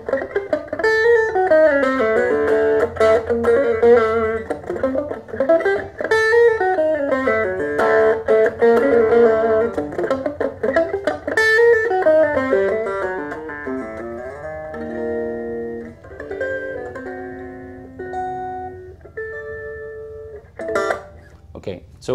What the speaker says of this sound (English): arpeggio and create it into a riff, into a guitar phrase